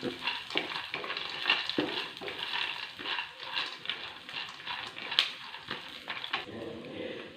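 Small whole gooseberries and tamarind are stirred in a pan, producing close, rhythmic scraping and soft squelching with faint sizzling between strokes, without speech.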